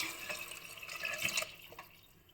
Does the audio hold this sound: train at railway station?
no